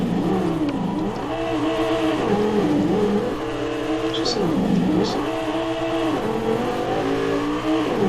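A car engine in the Corona MotorSport racing video game revs hard and continuously, its pitch sweeping up and down through repeated gear changes, loud and steady throughout.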